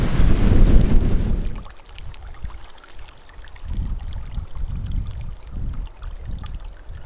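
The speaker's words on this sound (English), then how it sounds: "Windy." Gusty wind blowing outdoors in Arizona, buffeting the microphone with a loud roar at first, then lower rumbling gusts rising and falling.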